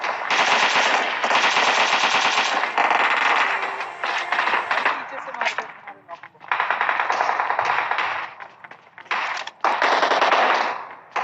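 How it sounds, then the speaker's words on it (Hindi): Dense bursts of machine gun fire in the battle royale game PUBG, long rapid volleys broken by short pauses, loud and close, with a voice talking underneath. "अब चारों तरफ आप गोलियों की आवाज़ सुन सकते हो।"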